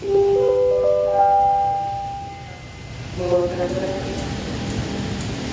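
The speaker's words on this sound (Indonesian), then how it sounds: "ada lokomotif masuk stasiun Surabaya Gubeng teman-teman" A locomotive pulls into Surabaya Gubeng station, sounding a sustained tonal horn blast, then a second harmonic horn note over rumbling engine and platform noise.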